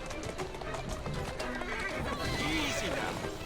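A female horse in the video game Assassin's Creed Syndicate walks with steady clip-clop hoofbeats, then gives a clear rising-and-falling whinny near the end, over a continuous bed of game background noise.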